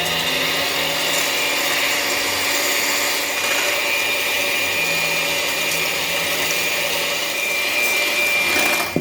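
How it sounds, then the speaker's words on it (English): A hand mixer with a whisk attachment beats eggs in a bowl, giving a steady, loud motorised whir that runs without a break and with no talking. "with the hand mixer and the whisk attachment, beat the eggs until light and fluffy"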